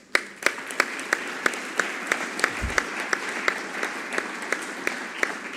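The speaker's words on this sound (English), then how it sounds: "a big round of applause for the other films that were also just right there with it" Applause for the competing films at the ART&TUR Aveiro 2021 awards session: a crowd claps steadily while one nearby pair of hands strikes sharp, regular claps above the soft, even background clapping.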